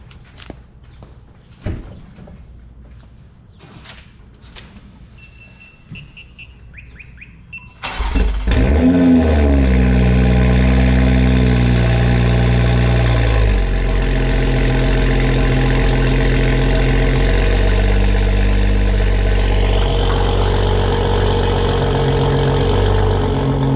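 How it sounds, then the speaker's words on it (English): A few scattered clicks and clunks come first. Then a Toyota Supra with a new HKS High Power exhaust cranks and fires on a cold start into a loud, deep-toned high idle that gradually settles lower. "we'll get to hear what a cold start sounds like with this"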